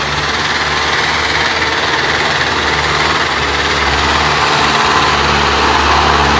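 Mahindra tractor engine running steadily in second high gear with 4x4 engaged, a loud continuous droning rumble with engine vibration that holds constant throughout, no voices.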